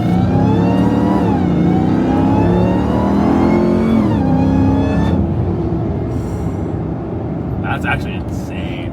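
A 900-horsepower Demon-engined Jeep fitted with a new exhaust revs loudly and close, its engine note climbing and falling in sustained swells while people talk over it.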